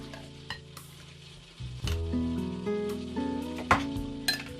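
Baked beans in tomato sauce stirred in a pan, soft scraping and sloppy stirring sounds over a faint sizzle, with occasional utensil knocks and no talk.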